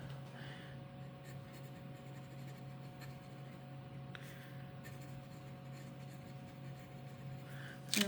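Fountain pen inked with Iroshizuku Yama-Guri scratching faintly across copy paper in soft intermittent strokes over a low steady hum.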